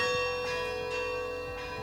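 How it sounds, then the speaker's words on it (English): A church bell rung by pulling its rope gives a loud, sustained metallic ring, with fresh strikes every half second or so layered over the lingering hum. "A couple of big pulls on the rope, and then just little tugs on it to get the chime."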